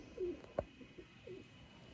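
Pigeons kept by a fancier give a few soft, brief coos with short pauses between, faint and nearby in a quiet setting.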